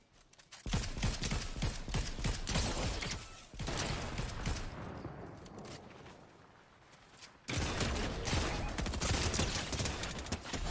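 Sustained rapid machine gun bursts in a video game, loud and continuous, broken by a short quieter gap before firing resumes at full intensity.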